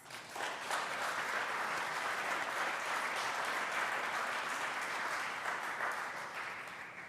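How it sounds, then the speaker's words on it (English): An audience at a cultural and musical showcase fundraising event gives a full, sustained round of applause, an even wash of clapping that holds steady for several seconds before easing slightly. "So if we could give them a round of applause."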